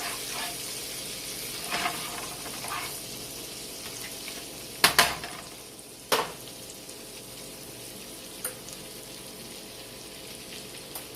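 Melting and sizzling in a pan on the stove for a sausage gravy, a steady soft crackle with a few sharp clinks and scrapes of a utensil against the pan partway through.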